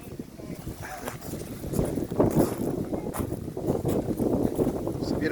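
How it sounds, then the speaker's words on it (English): Gusty wind buffets and rumbles against the microphone during a train ride at St Nicholas Abbey, rising and falling in waves, with faint voices underneath. "It's very windy up here."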